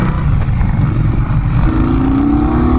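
An Indian Scout Bobber motorcycle engine running, a loud, steady low rumble close by with a rising whine near the end as it passes.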